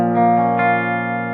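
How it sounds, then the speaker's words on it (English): An electric guitar runs through an EP Booster pedal into a tube amp, one sustained chord ringing out loud and bright and then slowly decaying with no one talking over it. "Here comes the EP Booster."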